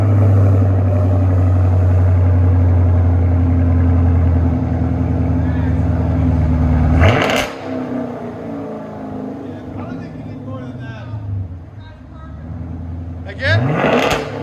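A car engine fitted with a Corsa Extreme exhaust idles with a deep, steady rumble, then gets two sharp throttle blips several seconds apart that rise and drop quickly, loud and close, with people talking in between.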